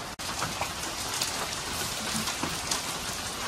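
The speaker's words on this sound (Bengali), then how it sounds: "বাইরে কি সুন্দর বৃষ্টি হচ্ছে" Heavy rain falls steadily outside, a dense, constant hiss with scattered drops pattering on surfaces nearby and no voices.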